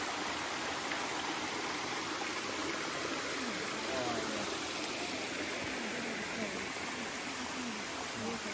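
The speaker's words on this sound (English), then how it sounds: "I think that's the Brown River." The Brown River on the Heaphy Track in New Zealand rushes past in a steady, broadband wash of flowing water, loud and close, with faint voices under it.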